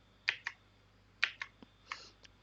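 Computer keyboard keys pressed for an undo shortcut while animating in Blender, with several quick clicky taps in small pairs and a few softer clicks, close and distinct with no talk.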